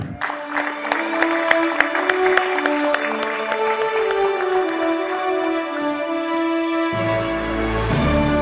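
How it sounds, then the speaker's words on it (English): Audience applause fills a hall at a panel discussion, continuous clapping with some cheering, loud and near, shifting toward a lower rumble near the end. "with a big round of applause"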